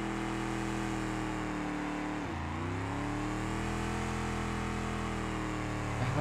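A bus engine with a blown head gasket in the driving game BeamNG.drive revs hard and holds a steady, droning tone. Its pitch drops sharply for a moment midway, then climbs back as it strains on, loud and continuous.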